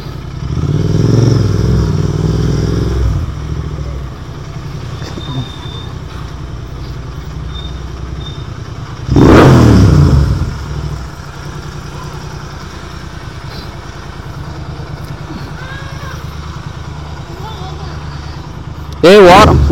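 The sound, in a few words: Royal Enfield GT 650 motorcycle engine revving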